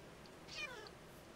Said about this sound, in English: it makes a nice little cat sound when you hit it.